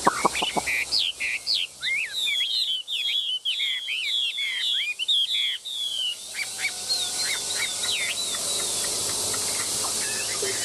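A caged songbird sings a long run of bright, rapid chirps and trilled phrases, close and loud, with brief pauses and steady background hiss.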